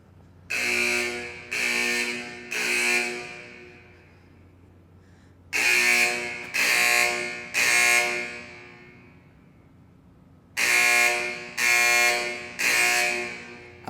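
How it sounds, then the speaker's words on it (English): A fire alarm blares inside a building in groups of three long, loud horn blasts, each group separated by a few seconds of near silence, repeating three times. "I wonder if someone tripped the fire alarm."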